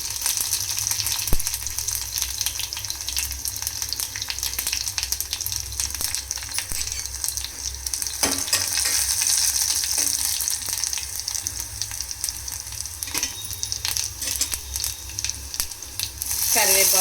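Cumin, mustard seeds, garlic and dry chilies frying in hot oil in an AMC cookware pan, a steady close sizzle with popping crackles and occasional stirring clatter running throughout.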